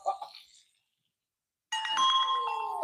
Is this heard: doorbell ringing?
yes